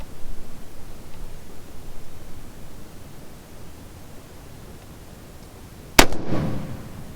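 A Howa 1500 rifle chambered in 6.5 Creedmoor fires a single sharp, loud shot at a prairie dog 510 yards away. The crack comes late, after a stretch of steady wind-like outdoor noise, and a brief rumbling tail follows.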